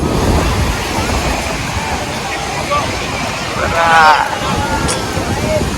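Sea waves rolling onto Puri beach in the evening, a loud continuous wash of surf with wind buffeting the microphone, swelling to a stronger surge midway, with a voice speaking faintly in the background.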